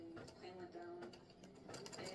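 An embroidery machine sews a baseball applique design with a close, steady, rhythmic mechanical whir and repeated needle taps, carrying on throughout without a break.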